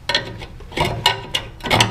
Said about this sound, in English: That's an air hammer.